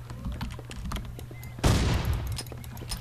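A machine gun firing in the video game The Ship sounds as a sudden loud burst midway, following quieter clicking and a steady low hum.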